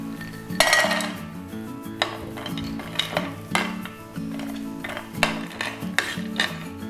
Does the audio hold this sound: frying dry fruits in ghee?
yes